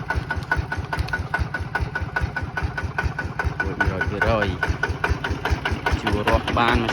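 A homemade small Khmer tractor built for plowing soil runs its engine steadily nearby, a loud, rapid rhythmic chugging throughout with a brief rise in revs near the end.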